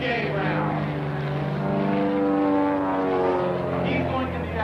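A propeller aerobatic airplane performs at an airshow, its engine droning loud and continuous with a shifting pitch as it rolls and holds on the propeller.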